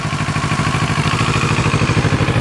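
A 2017 Kawasaki Z650 motorcycle runs nearby with a steady, rhythmic mid-pitched engine thrum and light clatter, held at a modest idle-to-low rev.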